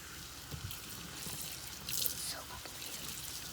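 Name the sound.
water running from kitchen tap while lathering soap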